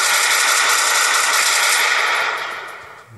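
Sustained automatic gunfire in Free Fire, a loud bright rattling burst held steady for most of the stretch before tapering off near the end.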